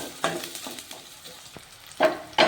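Green chillies fry in about four spoons of hot oil in a pan for tomato paratha: a soft, close sizzle with scattered stirring taps, rising to two louder bursts of spitting near the end.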